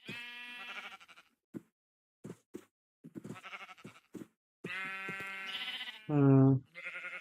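Sheep in the video game Minecraft bleat repeatedly, short wavering baas with gaps between them, the last one louder and deeper, close by and clear with no talk over them.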